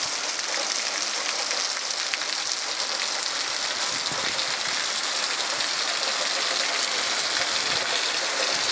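Steady heavy rain falling outdoors in a breezy setting, a dense continuous hiss close by with no pauses.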